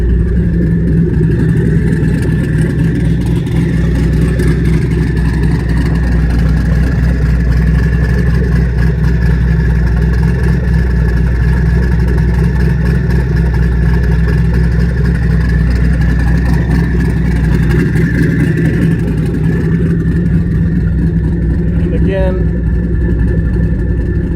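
A twin-turbo 2013 Chevrolet Camaro ZL1 idles with its exhaust cutouts open, a loud, steady, deep burble that holds without revving for the whole stretch, close to the listener.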